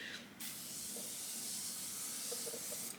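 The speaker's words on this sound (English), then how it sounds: "Let's spray some on the face. I love how it's like a continuous mist." A makeup setting spray lets out a steady, continuous hiss of mist, close up, running almost unbroken for a few seconds.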